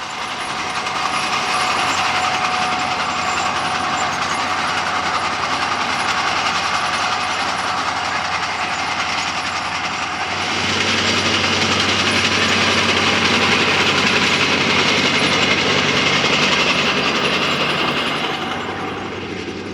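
The heavy engine of a re-powered International TD-8 crawler tractor, about 100 horsepower, drones steadily for the whole stretch while pulling 9m Needham rolls on sloping sugar beet fields, loud and close, its low rumble deepening and swelling partway through.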